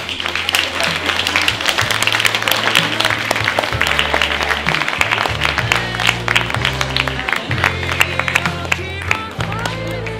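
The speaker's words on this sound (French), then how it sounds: "Et on vous applaudit très fort." An audience at an academic prize event for Le Petit Corot TV claps loudly and steadily, with some cheering and crowd murmur, over low sustained music tones.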